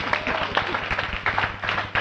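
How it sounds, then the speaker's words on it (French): A studio audience claps for a French word-association game, a short burst of uneven, fairly close hand claps with some individual sharp hits and a murmur of crowd noise beneath. "On peut applaudir le public"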